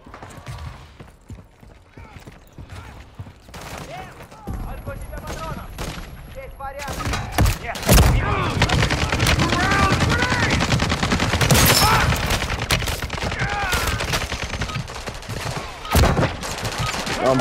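Gunfire rattles in the Call of Duty video game, with scattered shots early that build into dense, loud automatic bursts. Players talk over the firing.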